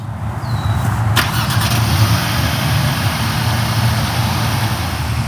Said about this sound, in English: And then very shortly the engine will be starting up on the vehicle